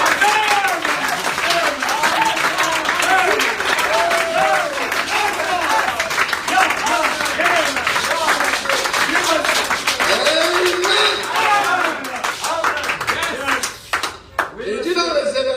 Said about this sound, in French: Je veux que vous applaudissiez d'abord pour cet